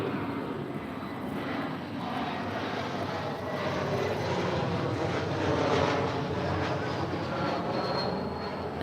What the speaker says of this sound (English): that is Delta Connection SkyWest 4081, coming in from Oakland, California on an E175LR